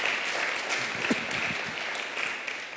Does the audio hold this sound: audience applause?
yes